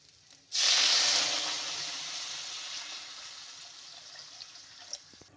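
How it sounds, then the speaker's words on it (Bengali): Water hits a hot pan of frying egg curry with a sudden loud hiss that bursts on and then slowly fades into a softer, steady steaming sizzle, close by with no talk. "তারপরে জল দিয়ে দিব এখন।"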